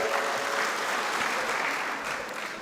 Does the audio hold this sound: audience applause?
yes